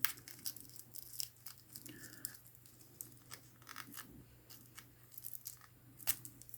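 Scissors snip through a ribbon's cover as it is cut off the roll in a quiet craft room, a series of faint, irregular crinkly cuts and rustles.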